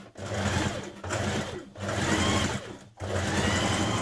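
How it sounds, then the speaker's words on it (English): A sewing machine stitches a dress seam on a Simplicity 1586 colour block dress, running in steady whirring bursts separated by brief pauses, close and fairly loud with no one talking. "stitch from just above your notches here down to where you've created your vent"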